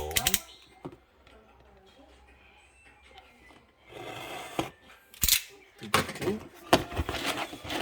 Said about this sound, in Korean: 자 한번 뜯어볼게요